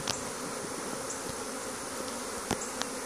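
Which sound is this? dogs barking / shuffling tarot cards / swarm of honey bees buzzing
swarm of honey bees buzzing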